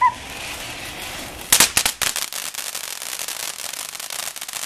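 Fourth of July firecrackers go off in a loud burst of sharp bangs, then a long rapid crackling string of smaller pops that trails off, heard nearby outdoors.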